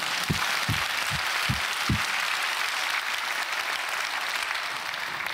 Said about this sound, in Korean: 하나님께 영광의 큰 박수 합시다.